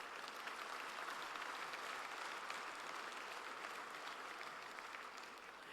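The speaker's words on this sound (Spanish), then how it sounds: "damos un aplauso al Señor por ello" A congregation in a church claps in a steady wash of applause that holds evenly for several seconds before easing slightly, heard from some distance with no talk over it.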